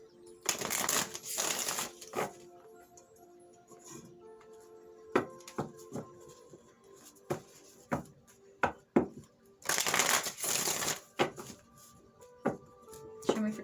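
Oracle cards shuffled by hand during a Taurus reading: two loud bursts of riffling shuffle, early and again near the end, with scattered soft taps and clicks of cards being handled between them.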